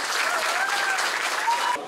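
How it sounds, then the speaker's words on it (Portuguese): A church congregation claps during a temple inauguration service, producing a brief, dense burst of steady applause from many hands that fills the room evenly and then cuts off. "Uma salva de palmas para Jesus aí."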